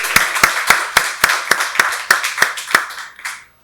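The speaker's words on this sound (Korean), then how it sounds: "박수로 하나님께 영광 돌리겠습니다" Around a dozen sharp claps from a church congregation during a Sunday worship service, clustered in a brisk steady rhythm that thins out and fades at the end.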